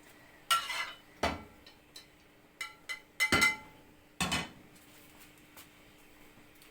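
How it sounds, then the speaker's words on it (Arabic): A frying pan is handled and greased with a little oil, heard as a scattered series of close, sharp metallic clanks and scrapes separated by quiet gaps. "كناخذوا المقله كندهنوها بشويه ديال الزيت"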